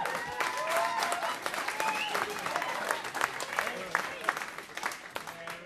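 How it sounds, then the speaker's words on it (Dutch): Studio audience applauding on a Dutch television show, a continuous wash of clapping with a few vocal whoops and tonal sounds mixed in, moderately loud and steady before easing slightly at the end. "En mag ik ook een applaus voor de commentator"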